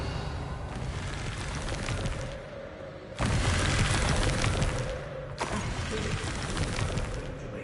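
Casting spells in Hogwarts Legacy, including Revelio: a loud, bright magical burst with a mechanical ring, followed by a second strong whoosh, both rising out of a steady background.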